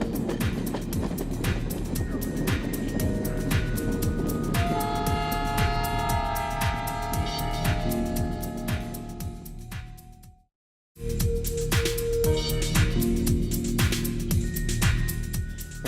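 Inside a moving long-distance train in India headed to Delhi, a continuous loud rumble and rattle of the carriage fills the cabin, with tonal whines and a brief sudden dropout before the rolling noise resumes.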